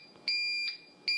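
An airport security boarding pass scanner sounds error tones, two loud, high electronic beeps, one longer and one brief, with a fainter tone between them, heard alone and close.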